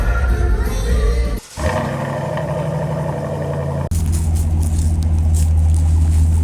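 A Chevrolet Silverado pickup fitted with a Pulsar LT throttle controller accelerates onto an interstate, its engine droning loud and steady from the cabin, broken by two short dips as it shifts gears.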